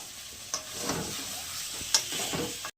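Tomatoes sizzle in oil-fried masala for Bengali egg posto, a steady close frying hiss broken by a few sharp spatter pops and soft stirring scrapes, ending abruptly.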